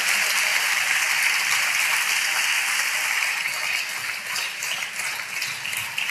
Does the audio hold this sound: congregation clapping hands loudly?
yes